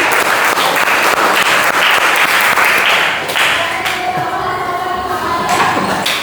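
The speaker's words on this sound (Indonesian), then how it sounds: "Saya berikan tepuk tangan." A classroom full of students claps together in sustained, dense applause, loud and close, thinning slightly toward the end.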